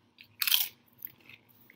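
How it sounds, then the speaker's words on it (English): Single sharp crunch of a bite into a Cool Ranch Doritos chip, close and crisp, followed by a few softer chewing crackles in an otherwise quiet room. "I can eat Doritos while I teach"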